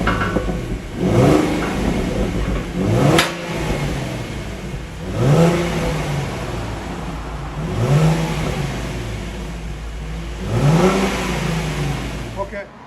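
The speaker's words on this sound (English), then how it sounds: "Put it in park and give it gas." A 2017 Ford Mustang with a 3.7L V6 and factory converters and resonator is revved in park, giving five evenly spaced throttle blips that rise and fall back to a steady idle, with a voice talking faintly in the background.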